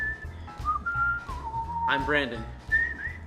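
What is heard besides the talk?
person whistling The A-Team theme song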